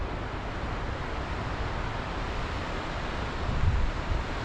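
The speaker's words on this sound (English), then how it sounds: "Quite an impressive wave actually." Steady broadband ocean surf roars at the Margaret River mouth in Western Australia, mixed with wind noise on the microphone. Waves break at a distance, and a slightly stronger low rumble swells near the end.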